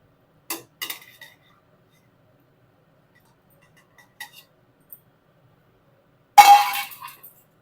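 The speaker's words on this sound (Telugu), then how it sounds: "ఈ ముక్కలన్నీ కూడా మనం మిక్సీ జార్లో వేసేసుకుందాం." Hard pieces of ripe cucumber clatter into a mixer jar in a few separate bursts, with long quiet gaps and a final louder clinking drop near the end.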